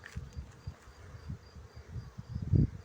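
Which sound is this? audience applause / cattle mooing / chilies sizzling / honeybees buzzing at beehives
honeybees buzzing at beehives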